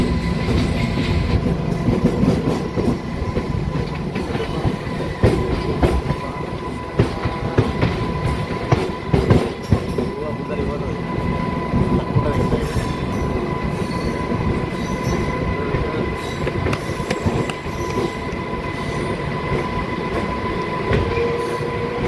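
Loud rumble of a MEMU local train running on the Hyderabad to Vijayawada line, with continuous wheel squeal, rattling carriages and intermittent clicks and clanks heard from on board throughout.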